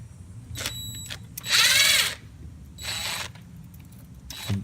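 Short bursts of a power ratchet or drill with an 11mm socket tightening a hot-side charge pipe clamp during a 7.3 diesel intake manifold install, three or four close, loud whirs separated by pauses.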